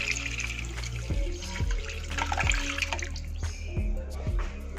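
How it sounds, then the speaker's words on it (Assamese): Milk is poured from a cup into a pan of fried ingredients while kheer cooks, giving a close, steady trickle and splash of liquid with a few soft knocks and clinks. "এতিয়া ইয়াতে মই যিখিনি গাখীৰ লৈছিলোঁ সেই গাখীৰ কাপ ইয়াতে দি দিম"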